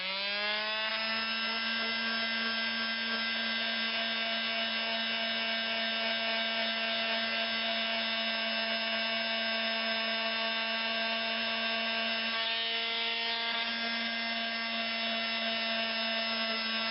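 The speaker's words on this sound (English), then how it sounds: "Now I'm going to go ahead and start sanding it down with 150 grit." A wooden chef's knife handle is sanded with 150 grit sandpaper, giving a steady, continuous motorized hum with a buzzing tone that holds evenly throughout, close and alone with no talking.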